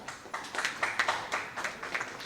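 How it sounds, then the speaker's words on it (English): An audience at a conference session on radicalization gives a short burst of applause after the session chair is introduced, with claps coming in quick, uneven waves from a fairly small crowd. "Please, a round of applause for him."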